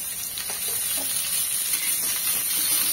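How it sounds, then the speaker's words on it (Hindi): Chopped onion frying in a little oil for an umbar handi, a steady close sizzle and crackle throughout with a few faint stirring clicks, no voices. "आता कांदा भाजून घेते, थोडंसं तेल घालते"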